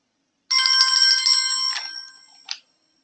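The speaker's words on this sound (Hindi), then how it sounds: "एक सेकेंड देखो किसका फोन है।" A phone rings in a classroom during a copyright lecture, a sustained electronic ringtone lasting about a second and a half, then a short final chirp, close and clear with no talk over it.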